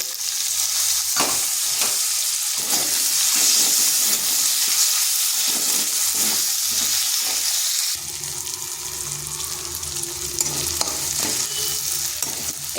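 Tomato dropped into a hot pan of oil while cooking a vegetarian pumpkin dish, a loud continuous sizzle with scraping stirs, easing into a softer, lower frying hiss partway through.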